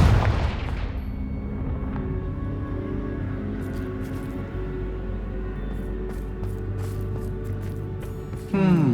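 Confringo blasting spells explode in the video game Hogwarts Legacy: a sharp boom at the start, then dense rumbling combat noise, and a second blast near the end.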